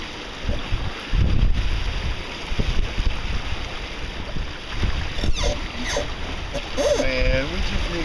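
A sailboat heading up into the wind, with a steady wash of wind and water rushing past the hull and occasional creaks, while people talk on board.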